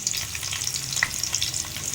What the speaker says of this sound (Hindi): इस टाइम पे ये देखें ये जो तड़का लग रहा है इसको रंग दी जी